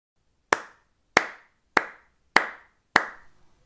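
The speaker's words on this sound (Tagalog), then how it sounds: "pumalakpak ka ng 5 ulit" Five crisp, separate hand claps spaced roughly half a second apart in an evenly timed sequence, close and clear against silence, each with a short decaying ring.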